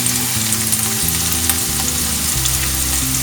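Green chillies frying in a pan for Kerala-style dragon chicken give a steady, close sizzle with faint stirring, over a low background tone and with no talk.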